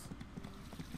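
Horse hooves clip-clopping in the farming game My Time At Portia, a quiet, steady run of soft rhythmic hoof taps with no talk.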